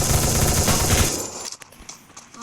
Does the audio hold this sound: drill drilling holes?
no